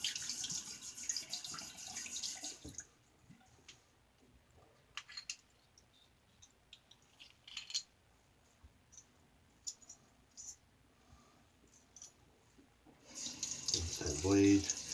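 Tap water runs over a safety razor blade being rinsed at a bathroom sink, a steady broadband splash at the start and again at the end, with quieter clicks and handling between.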